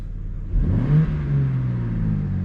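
A 2024 BMW M2 (G87) engine revs up in sport mode, rising to a peak and then holding a steady, loud rumble, with no talking over it.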